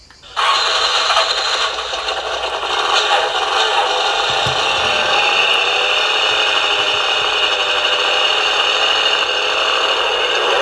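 The electronic engine-start sound of a Lancia 037 scale model car from the IXO collection kit. It switches on abruptly and becomes a loud, steady, buzzy roar that holds for the rest of the clip, with no speech.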